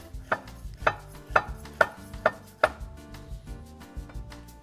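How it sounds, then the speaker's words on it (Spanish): Knife chopping ingredients on a board while assembling a puff pastry and cream dessert with peaches; six sharp, evenly spaced chops ring out close and clear, followed by softer scraping and tapping. "lo vamos picando con el cuchillo"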